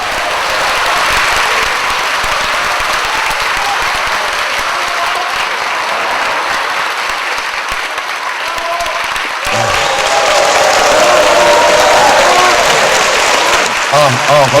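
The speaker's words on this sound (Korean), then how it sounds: "박수로 맞아주십시오." Sustained loud applause from a large audience welcoming a speaker at a public broadcast lecture fills the whole stretch, steady throughout and swelling slightly toward the end.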